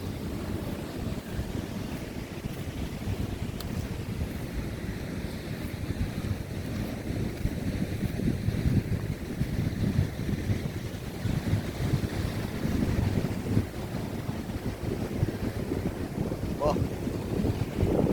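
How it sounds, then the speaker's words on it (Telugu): Cold wind gusts steadily across the microphone at Dutch Beach in Sri Lanka, a constant low rumbling roar with surf washing faintly beneath it, sustained for the whole stretch without pause. "చాలా చల్లగా గాలి వస్తుందండి."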